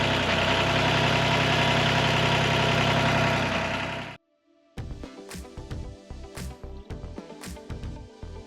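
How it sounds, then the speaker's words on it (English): A farm tractor engine idles loudly and steadily for about four seconds, then cuts out abruptly, followed by scattered knocks, clanks and rattles nearby. "They know when the tractor's going, it's feed time."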